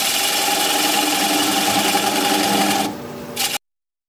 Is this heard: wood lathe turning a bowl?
yes